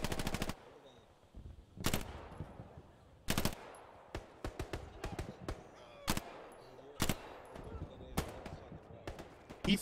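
Gunfire in the World War II shooter game Hell Let Loose: sharp bursts of automatic fire and single shots crack out irregularly, some loud and near, others fainter, with voices talking in between.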